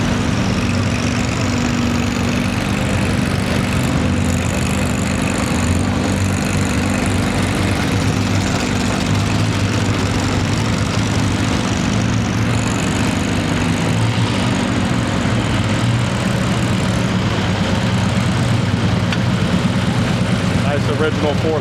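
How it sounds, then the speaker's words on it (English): Hot rod garden tractor engines roar steadily and loudly through a pulling demonstration at an antique agricultural show in Perry, Georgia, a continuous mechanical drone with voices faintly underneath. "they put on a pretty good show here Friday and Saturday with the hot rod garden tractor pullers"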